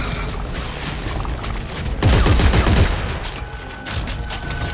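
Gunfire crackles in the video game Dead Space 3 as glowing targets are shot at, a dense, loud burst of rapid shots over a steady game background, peaking midway.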